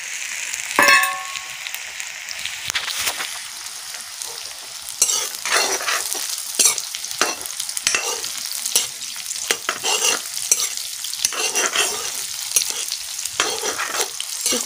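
Buff dry meat with onion frying in a pan in a village kitchen, with steady sizzling, repeated stirring scrapes and sharp metal clangs of a utensil against the pan, no talk.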